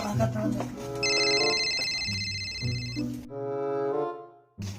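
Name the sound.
telephone ringing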